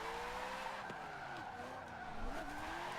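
Tires squeal as a 700-horsepower V8 Corvette kart skids and nearly spins out in the Forza 7 racing game, its engine droning loudly and steadily beneath long sliding tire whines.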